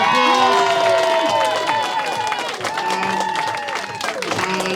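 An audience at a comedy competition semi-final claps and cheers loudly for a comedian, with whoops and shouting voices ringing over dense applause that eases slightly midway and then swells again.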